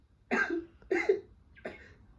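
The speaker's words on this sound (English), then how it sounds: "Then he coughed." Three harsh coughs come in a row, close and loud, with the last one weaker, each separated by a short pause.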